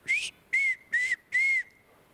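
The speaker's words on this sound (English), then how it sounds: "I've never heard a whistle like that in my life." Four loud whistled notes, each about half a second, in an even rhythm with short gaps, ringing clearly in open air with no talking.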